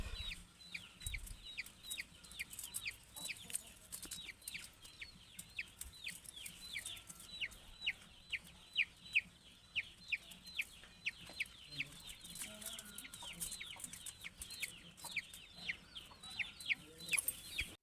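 Chickens cluck repeatedly at a distance outdoors, a faint, irregular stream of short clucks and calls over quiet background noise.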